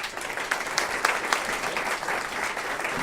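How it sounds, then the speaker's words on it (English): Applause from a comedy club audience welcoming a comedian to the stage, steady dense clapping throughout with a few sharper claps standing out. "Put your hands together for Kevin O'Brien."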